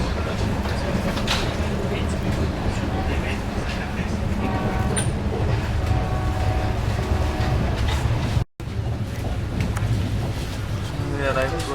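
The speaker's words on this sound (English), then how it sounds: "The train is at good speed." Tejas Express train running at speed, a steady loud rumble of wheels and carriage noise throughout, with a brief dropout near the end and faint talk in the background.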